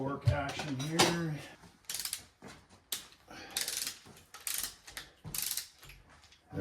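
Torque wrench tightening connecting rod bolts on a Chevy 350 engine, a run of repeated ratcheting clicks and mechanical creaks in short regular bursts, near and moderately loud, with a voice talking briefly at the start.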